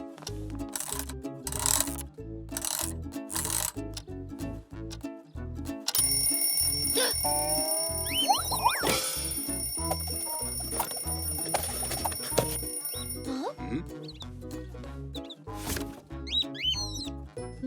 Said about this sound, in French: Voici mon vieux réveil. Et il marche encore.